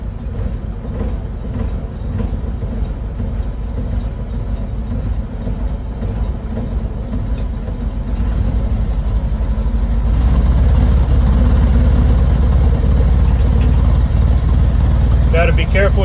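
A 1953 Dodge M37 truck engine runs steadily at a little throttle, a loud continuous low rumble that grows heavier partway through, close and without voices.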